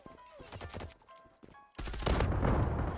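Gunfire in the online shooter game Zula crackles as a dense burst of rapid shots, starting with scattered cracks and then breaking into a loud, continuous volley.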